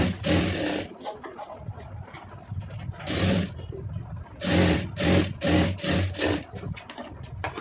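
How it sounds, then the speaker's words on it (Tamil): A sewing machine stitches a folded round neckline in several separate bursts, its fast mechanical whirring starting and stopping close by, with quiet pauses between runs. "அப்படியே கரெக்டாக மடக்கி ஒரு தையல் போட்டுருங்க."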